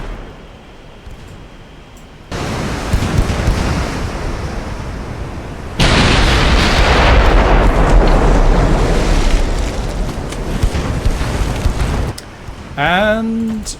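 Naval gunfire from battleship guns in the Ultimate Admiral Dreadnoughts game, heard as a sustained roaring wash of blasts and rumbling explosions that surges louder midway, ending with a brief rising electronic tone.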